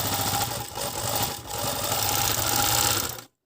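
An FN-2 overlock sewing machine stitches fabric while its knife trims the edge, a steady close mechanical whir that runs without pause for about three seconds before stopping abruptly.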